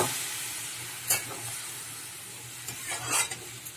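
Banana flower curry with chickpeas sizzles softly in a pan as a little water goes in, with a hissing burst and a few stirring scrapes over a low, continuous fry.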